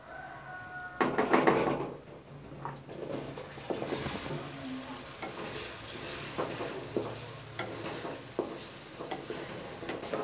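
Potatoes stirred and fried in masala in a pan, giving a steady sizzle with scraping stirs and occasional clinks, loudest near the start and continuing at an even level.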